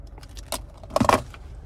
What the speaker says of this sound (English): finally, here's the key fob